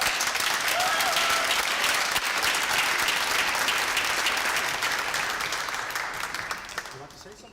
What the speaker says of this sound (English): let's welcome her with a great applause